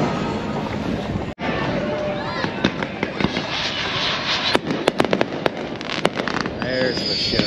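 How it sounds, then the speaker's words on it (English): Fireworks go off far away over land on Independence Day in the Florida Keys, a string of sharp pops and crackles scattered across the stretch, heard under steady wind and water noise. "Fireworks going on back"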